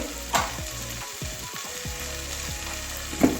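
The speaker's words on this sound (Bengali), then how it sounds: "একটুখানি নাড়িয়ে নিচ্ছি" Potato, carrot and spring onion frying in a pan hiss steadily while a utensil scrapes and clacks through them now and then, close and continuous with no speech.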